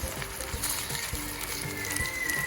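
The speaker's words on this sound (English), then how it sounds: "Now I'm going to flip our spam slices." Slices of Spam fry in a large frying pan, a close, soft sizzle running throughout with a few knocks and scrapes as pieces are flipped, and no talking.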